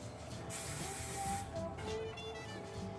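Hairspray mists onto hair in two close hissing bursts, one longer and one shorter, with a brief pause between them.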